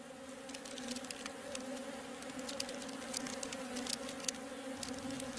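Honeybees swarm around their hive in a dense, steady buzz, with scattered ticks and taps from insects moving close by.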